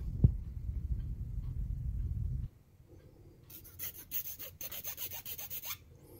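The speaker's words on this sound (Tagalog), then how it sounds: "Linis muna natin guys gamit ang kikil file. I-shape lang natin yung bawat dulo." A hand file rasps steadily on the broken ends of a fishing rod, with a low rhythmic grinding for a few seconds, then lighter, scratchier irregular strokes close by, fairly quiet.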